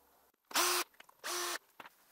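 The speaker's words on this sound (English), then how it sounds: "Next step is we have to remove this 3 screws here." A power driver whirs in two short, separate bursts, backing out screws from the front mudguard of a 49cc Gepard dirt bike. Faint clicks and handling noises sit in between the bursts.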